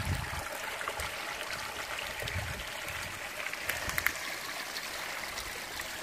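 A small stream of running water along a trail, a steady close babbling trickle that continues evenly throughout with no voices over it.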